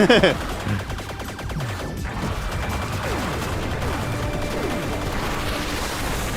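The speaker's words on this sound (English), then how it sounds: "Do that multiple lock-on with the missiles?" Missile lock-on and firing in the video game Nightshift Galaxy, a dense stream of synthetic shots and explosions with sweeping electronic tones, loud and continuous under people talking.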